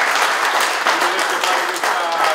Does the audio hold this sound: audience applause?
yes